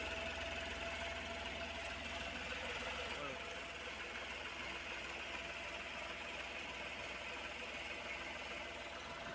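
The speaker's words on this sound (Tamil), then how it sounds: "91 வந்து 92 ஃபேன் வந்து ரன் ஆகிடுச்சு." Radiator fan running on an Ashok Leyland Dost truck, a steady whirring drone over engine idle, continuous and fairly even throughout, heard up close.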